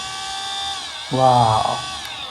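A homemade 775 motor drill built from PVC whirs up to speed with a rising hum after a brief lull, spinning steadily for a moment before easing back.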